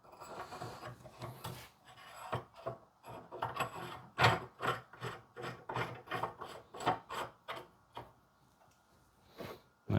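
A reamer cuts through new king pin bushings on a 1956 Volkswagen link pin front end, giving a close, repeated rasping scrape in uneven strokes with short pauses.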